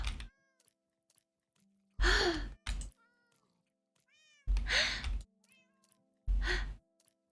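Minecraft cats meow in a video game, three loud, close meows spread over a few seconds, with faint game clicks and chimes in the quiet gaps between them.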